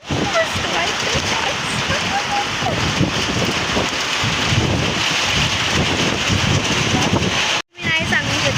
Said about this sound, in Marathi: खूप मोठा पाऊस यायला परत सुरू झाला